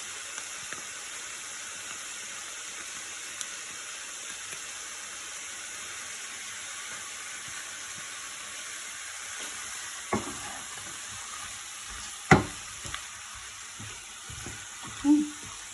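Sauce poured into a hot frying pan in a home kitchen, giving a steady close sizzle and fry with brief stirring bursts and clatter near the end, no talk over it.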